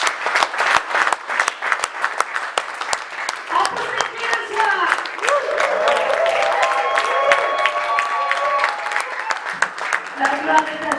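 A church congregation applauds loudly and steadily, dense clapping under voices and cheers, with a keyboard or organ melody rising beneath the crowd midway through.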